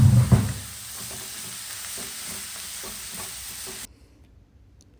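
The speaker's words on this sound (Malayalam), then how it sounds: "ഇനി ഈ ഉള്ളി നമുക്ക് നന്നായിട്ട് വഴറ്റിയെടുക്കണം." Onion sizzles in hot oil in a pan while being stirred, a loud, close hiss with a scrape of the spoon at the start that settles into a steady frying noise before cutting off abruptly.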